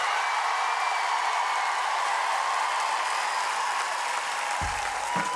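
An audience at a televised French music battle show welcomes a singer with steady, dense applause that fills the room evenly from start to finish.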